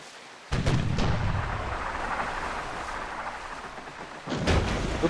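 Enemy ship cannon fire striking a sailing ship in Sid Meier's Pirates!, heard as two deep booming impacts about four seconds apart, with a rumbling, noisy wash sustained between them.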